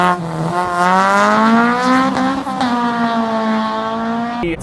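A roadster's exhaust rises as the engine revs under acceleration, a loud close engine note climbing steadily in pitch, with a brief dip midway before it pulls on and cuts off sharply at the end.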